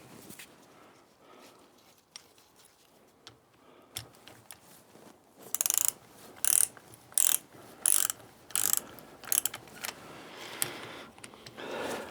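A ratchet tightens bolts on the differential of a David Brown 990 Selectamatic tractor, giving several loud bursts of rapid clicking with short pauses between them, close by and with no talk.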